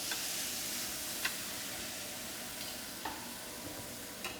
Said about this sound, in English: You'll hear that sizzle. It's nice and preheated.